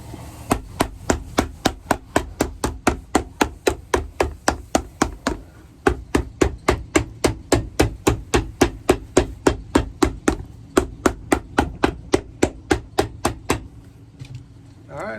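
Steady, rapid hammer blows on a Red Wing boot sole while removing its nails, dozens of sharp strikes in a regular rhythm with brief pauses, close and loud.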